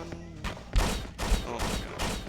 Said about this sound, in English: Oh, it's like a riot shotgun.